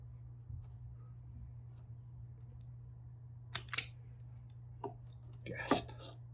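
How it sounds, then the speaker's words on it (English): Insulation being stripped from PC power supply wires, heard as a few brief, close snips and clicks against a steady low hum, with small handling sounds in the last two seconds. "Let's strip them."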